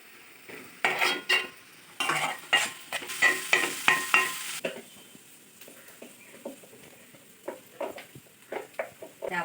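Fish pieces coated in masala being stirred in a pan, with a spoon repeatedly scraping and clinking against the metal in uneven bursts over a low sizzle, close by and without speech.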